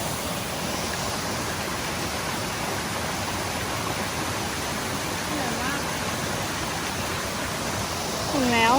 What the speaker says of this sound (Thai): น้ำตกสิริภูมิ น้ำเย็นมากที่นี่